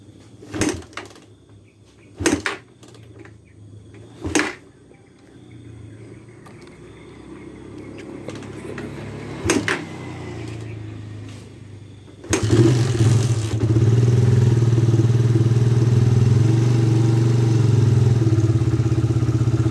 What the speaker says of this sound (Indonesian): Kita akan engkol kosong ya teman-teman